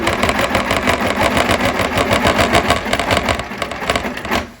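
A sewing machine stitches around the outside edge of a quilt in a steady, fast, continuous rhythmic chatter, close and loud, running unbroken throughout with no talking.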